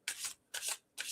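Three quick rasping bursts of tarot cards being shuffled and knocked against a wooden table, close and fairly quiet, evenly spaced with short pauses.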